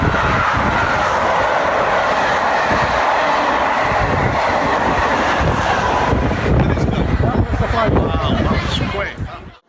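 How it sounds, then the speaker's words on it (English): A vintage locomotive roars through a station at speed, loud rushing and rattling wheels, with a clickety-clack rhythm fading toward the end. "The train driver couldn't resist showing off the capabilities of the vintage locomotive and sped through the station"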